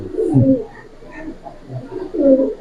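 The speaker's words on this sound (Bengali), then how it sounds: "এক জোড়া পুরানা জাতের সবুজ গলা কবুতর" A pair of old-breed green-necked pigeons coo close by in low throaty bursts, one near the start and another toward the end, with quieter murmuring between and no clear talking.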